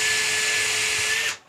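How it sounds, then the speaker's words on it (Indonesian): Cordless drill spinning a flaring tool on a pipe end, a loud high steady whine with a constant pitch that cuts off abruptly near the end. "Kalau ini cordless jadi bisa bawa kemana-mana, atau kalau nggak punya cordless pakai bor listrik pun bisa."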